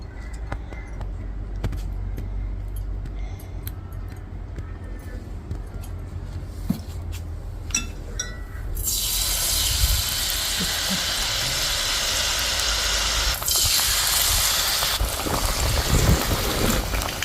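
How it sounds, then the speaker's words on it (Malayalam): Banana fritters (pazham pori) frying in hot oil at medium heat: a steady, loud hiss and crackle that swells sharply midway as more batter hits the oil, continuing dense and even. "അപ്പോൾ ഇനി നമുക്ക് ഓരോന്നോരോന്നായിട്ട് പൊരിച്ചെടുക്കാം."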